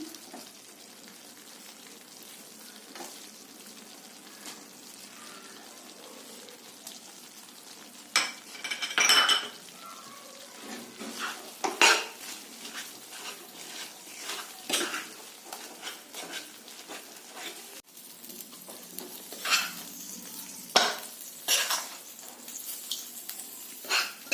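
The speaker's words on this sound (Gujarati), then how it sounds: "એની અંદર આપણે ગોળ, તોડેલો ગોળ હોય અથવા છીણેલો ગોળ હોય એ મિક્સ કરવાનું છે." Jaggery is stirred into a sweet sukhadi mixture in a pan, producing intermittent scraping and clinking of a spoon against metal, irregular strokes at moderate loudness over a faint background hiss.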